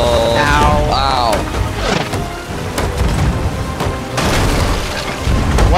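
Cannon fire in the pirate video game Sea of Thieves booms in several heavy blasts during a ship battle, loud and close, with voices talking over the fighting.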